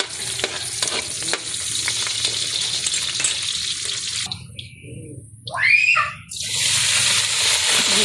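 Garlic and onion sizzling as they sauté in hot oil for pancit Isabela, a steady crackling fry with stirring, broken by a brief lull and a scraping clatter before the sizzle returns loud and close.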